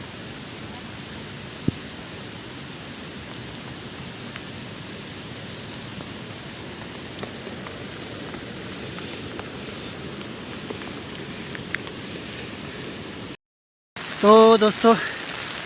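Rain falls during a mountain trek from Gaundar village to Madmaheshwar, a steady hiss of drops on surfaces that continues throughout, broken near the end by a brief dropout and someone speaking.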